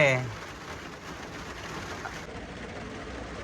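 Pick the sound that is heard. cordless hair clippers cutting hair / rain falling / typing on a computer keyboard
rain falling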